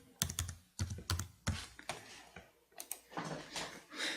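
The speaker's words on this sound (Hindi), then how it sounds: "जो आपने पासवर्ड अपनी मर्जी का जो लगाया है वो यहाँ पे टाइप करना है।" A password is typed on a computer keyboard during an online university application, with close, crisp keystrokes coming in quick bursts and short pauses, and no talking.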